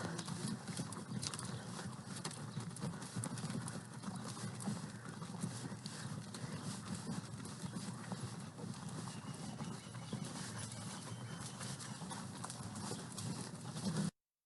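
Several horses on a ranch trail ride walk along, their hooves clip-clopping in a continuous, uneven patter close by, with faint bird calls now and then and no talk, for about fourteen seconds.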